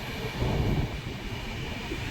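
An LHB passenger train passes through the Khandala ghat, heard as a steady, continuous rail rumble at a distance with no clear wheel clicks.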